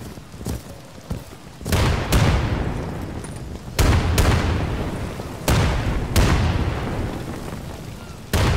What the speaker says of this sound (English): Grenade! Outgoing!